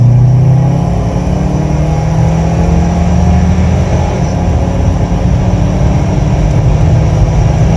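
A 2005 Subaru WRX turbo engine revs and pulls from inside the car, a loud, steady low drone with a rising tone early on, then a continuous engine roar throughout.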